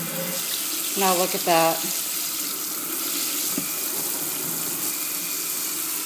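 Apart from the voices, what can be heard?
water running from a kitchen faucet with pull-off sprayer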